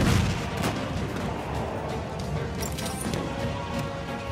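Tank cannon fire in the video game Battlefield 1, heavy booming blasts amid dense, continuous battle noise of rumbling explosions and gunfire, loud and sustained throughout.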